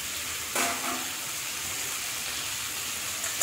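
Potatoes and ridge gourd sizzle steadily in a hot pan with ground cumin, coriander and chilli, a soft continuous hiss with a brief stir-like rustle near the start.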